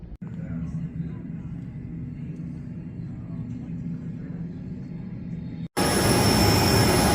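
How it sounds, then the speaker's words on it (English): A steady, loud engine rumble fills the cabin of an airplane at the airport before departure on a trip to California. It cuts out abruptly and gives way to a harsher broadband roar. "Getting on the plane."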